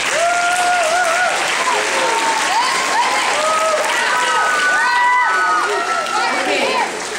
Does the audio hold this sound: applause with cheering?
yes